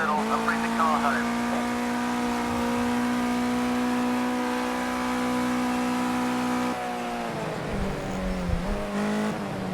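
A race car engine in the Project Cars 2 racing game holds a loud, steady high-revving whine, then drops and wavers as the car eases off near the end.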